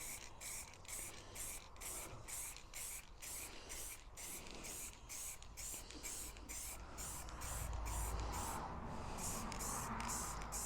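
Quick-drying etching primer hisses from a spray can onto a 1/6 scale RC Armortek Jagdpanther G2 tank model, a loud, steady close-up spray broken into rapid rhythmic pulses throughout.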